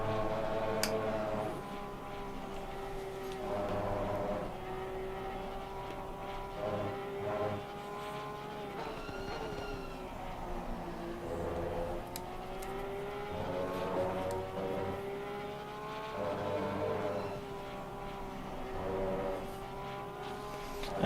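Several GT race car engines from Assetto Corsa Competizione, including an Audi, drone and rise in pitch through repeated upshifts and downshifts. The engines are steady and fairly near, with whining harmonics that sweep up and down as the cars accelerate and brake.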